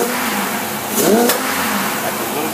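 Small Predator engine with an adjusted carburetor revving up, a steady mid-pitched drone that swells in a quick rising sweep around the middle before settling back, with a fan running in the background and no talk.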